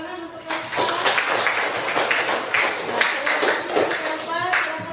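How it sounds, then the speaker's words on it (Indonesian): Students in a teacher-training classroom clap for a classmate who has just presented her analysis, a busy burst of hand claps that starts after a brief pause and carries on, with voices mixed in. "Beri tepuk tangan untuk Elva"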